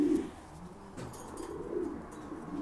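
Soft, low cooing from a breeding pair of Soovi-lineage pigeons, a faint burbling coo repeating in gentle waves over about three seconds with no talk.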